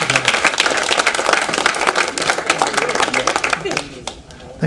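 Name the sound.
applause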